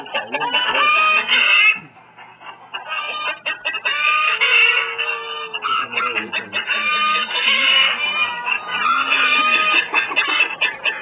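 Chickens in a coop at 2 a.m. cluck and squawk in a noisy chorus, with a rooster crowing through the din; the flock sounds close and restless throughout.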